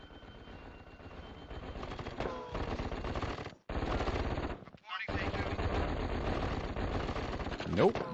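Turret gunfire in the real-time strategy game KKND, rapid automatic bursts layered over a dense wash of battle noise and in-game effects, sustained with two brief dropouts and a sharp tonal blip near the end.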